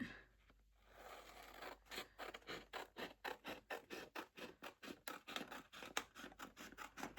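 Scissors snipping through scrapbooking paper for a small notebook project, a steady run of crisp, evenly spaced cuts close up after a brief quiet pause, with no voices.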